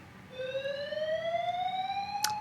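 A fire alarm sounds one steady, piercing electronic tone with bright overtones, rising slightly in pitch and holding for about two seconds over a quiet indoor room.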